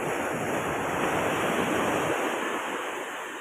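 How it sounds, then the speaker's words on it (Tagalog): Strong ocean waves crash steadily on the shore of an island beach resort during a low-pressure spell, a loud, continuous roar of surf with wind, no voices. "Tsaka ang lakas ng hampas ng alon."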